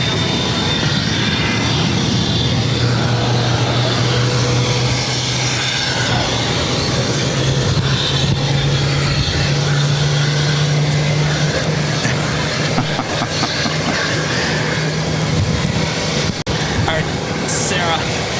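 A jet airliner powers up for takeoff from runway 22 right at Boston Logan airport, a loud sustained engine roar with a rising whine, while people talk over it.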